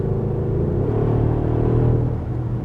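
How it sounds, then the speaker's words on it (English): Steady low engine rumble with a broad rushing wind noise, continuous and fairly loud, from a 2016 Mercedes-AMG GLE 63 S Coupe cruising at high speed. "the car gets a little bit loud, but that's due to the engine in connection with the wind noises"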